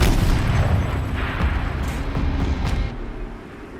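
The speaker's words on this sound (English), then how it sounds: "Rotate turret! And fire!" A turret firing in Horizon Zero Dawn, a loud rumbling boom that rolls on for a few seconds before fading, with no talking over it.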